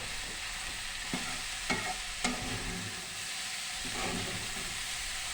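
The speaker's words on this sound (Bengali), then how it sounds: "দিয়ে দিলাম হলুদ মরিচ ধনিয়ার গুঁড়া এবং পরিমাণ মতো লবণ ভালো করে মিশিয়ে নিব" Sliced banana stem fries in a pan as turmeric, chili and coriander powder and salt are stirred in, giving a steady sizzle with a few sharp scraping strokes of a spoon against the pan, close by and with no talk.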